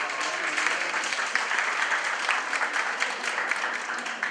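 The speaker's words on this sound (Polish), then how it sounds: "Wielkie brawa niech popłyną." Steady, lively applause from a crowd at a family literary picnic prize ceremony, with continuous clapping throughout and no talk.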